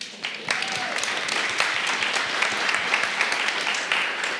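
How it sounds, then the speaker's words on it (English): Sustained round of applause from a seated audience at a closing conversation event, dense steady clapping filling the whole stretch with a faint voice briefly underneath. "Round of applause."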